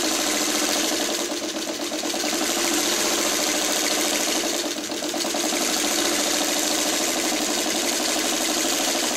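A sewing machine stitches the side borders onto a coffee-themed quilt top, a steady mid-pitched mechanical whir running continuously and close, with slight dips in speed, and no talking.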